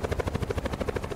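A helicopter in a video game chops steadily and loudly in a fast, even rotor rhythm, alone for a brief moment.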